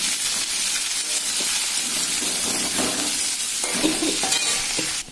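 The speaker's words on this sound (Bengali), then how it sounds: "এরপর আমি পেঁয়াজটা আর রসুনটা লঙ্কাটা একবারে দিয়ে দিলাম, একটু ভাজা হবে" Onion, garlic and chili frying together in a pan, a steady broadband sizzle with bursts of stirring and scraping throughout, close and fairly loud with no talk.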